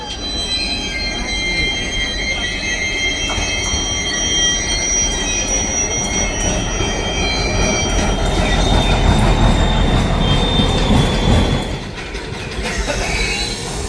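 The 12343 Darjeeling Mail passenger train pulls out of Kishanganj station toward New Jalpaiguri, its wheels squealing shrilly in sustained high tones over a loud, continuous rolling rumble of the carriages close by.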